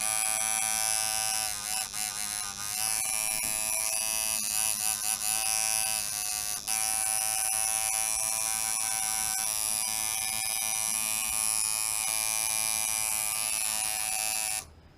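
A tattoo machine set up with rubber band tension and running at 6.5 volts gives off a steady, loud, high-pitched electric buzz, close up and unbroken for the whole stretch before it cuts off at the end.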